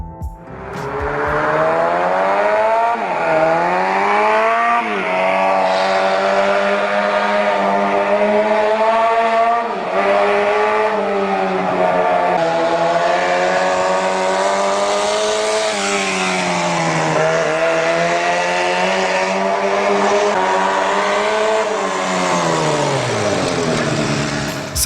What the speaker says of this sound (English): The sound of this small 4-cylinder engine reminded me of the legendary Honda CB754.